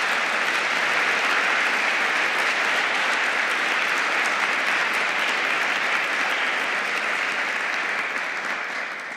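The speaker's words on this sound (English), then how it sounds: "please join me in a round of applause for them" Large audience at the 2025 Arqus annual conference giving a round of applause to the Leipzig organizers, a broad, even roar of clapping held for about nine seconds, easing slightly at the close.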